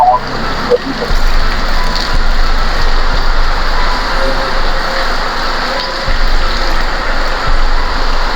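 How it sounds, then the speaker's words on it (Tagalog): Steady rain falls over an outdoor cemetery at night, a dense continuous hiss that stays loud and even throughout, with a faint low rumble underneath. "Abutan pa kami ng ulan."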